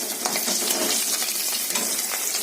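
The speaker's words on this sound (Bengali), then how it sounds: "তো এই 4টে পুঁটি মাছ ভাজছি।" Four puti fish fry in a pan of hot oil in a home kitchen, a steady, dense sizzle with crackling and popping that fills the whole moment, close and even, with no voices.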